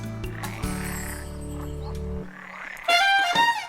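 Frogs croaking in a swamp: a steady low droning chorus for about two seconds, then quieter, followed by higher bright chirping calls near the end.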